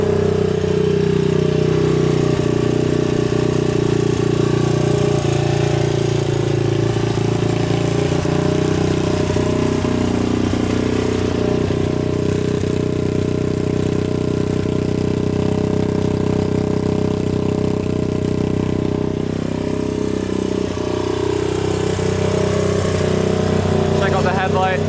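A Honda ATC 200x three-wheeler engine runs steadily after a kick start, with a loud, continuous mid-pitched chug and small shifts in revs throughout.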